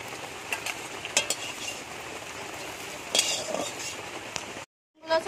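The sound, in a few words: eggs frying in a pan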